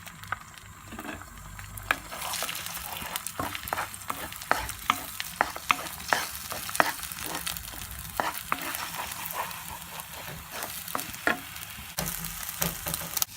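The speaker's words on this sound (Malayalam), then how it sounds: "അടിച്ചു വെച്ച് മുട്ടയിട്ട് നല്ലോണം ചിക്കി എടുക്കാം" Beaten egg scrambled in coconut oil in a pan: a spatula scrapes and taps in quick, irregular strokes over a continuous close sizzle.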